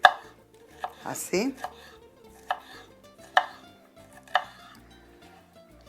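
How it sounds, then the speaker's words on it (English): A knife chops stripped chicharrones on a board in a series of sharp, separate strikes spaced about a second apart, close and fairly loud, with a brief scraping sweep partway through. "And then we're going to just chop them up a little bit."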